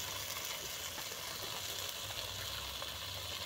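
Chopped tomato hits hot oil in a pan already holding fried garlic, ginger, onion and green chili, giving a soft, steady, even sizzle with no talking.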